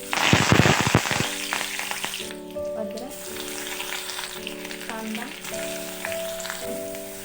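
Mustard seeds and curry leaves hit hot oil, opening with a loud burst of crackling and popping that settles into a steadier sizzle, with a faint tonal hum running underneath.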